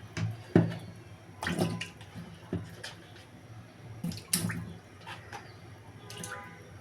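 Cut pabda fish are rinsed in a kitchen, with water splashing and dripping in a few intermittent bursts and soft handling sounds between them.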